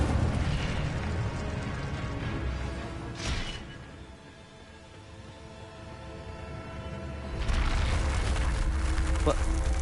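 Incendio fire spell cast in a wizard video game: a short burst flares up, the scene dips quieter, then a loud, sustained roaring rush of flame erupts and carries on to the end.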